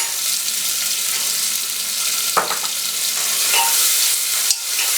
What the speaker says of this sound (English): I'll cook them till onion become little soft and pink in color.